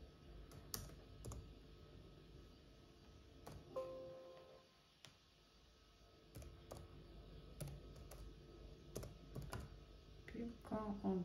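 Someone types a file name on a computer keyboard while saving a children's vest pattern in the KnittStyler design program. Light key clicks come in scattered quick bursts, quiet and close, over a faint background hum.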